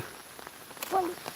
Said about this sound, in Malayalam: രാവിലെ തന്നെ മഴ എങ്ങനെയുണ്ട് ഗായസ് മഴ